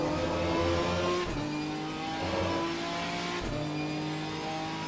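A Ginetta GT4 race car in Assetto Corsa Competizione screams through repeated rev climbs and gear changes, the engine note rising, dropping sharply at each shift, then climbing again, loud and continuous with no talk.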